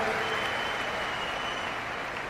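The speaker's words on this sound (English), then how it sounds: "Oh, you're clapping." A large audience at a Save Soil talk in Delhi claps in a sustained, even wash of applause that fades slightly toward the end, with no speech on top.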